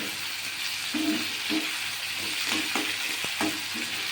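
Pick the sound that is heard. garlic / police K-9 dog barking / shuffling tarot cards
garlic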